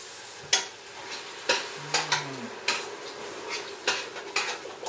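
Vegetable broth goes into a hot, sizzling pan during vegan home cooking, followed by a utensil stirring and scraping with a series of sharp metallic clinks at an uneven rhythm, close and moderately loud, with no talk.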